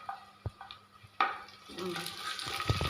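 Chopped garlic and chilies tossed into a hot pan, with a sharp clatter followed by steady frying sizzle and occasional stirring scrapes, close by.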